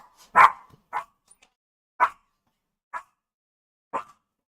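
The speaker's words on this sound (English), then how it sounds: "What are you barking at?" A dog barks five times in short, separate yips and woofs spaced about a second apart, the first the loudest, with silence between each bark.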